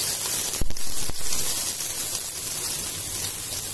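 Chopped onion and garlic sizzle in a teaspoon of frying oil, a steady, even hiss with a couple of brief clicks near the start.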